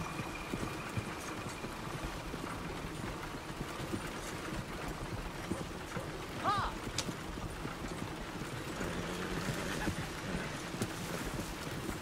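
Horse hooves clip-clopping along a road in Red Dead Redemption 2, a steady faint rhythmic trot under other game sounds.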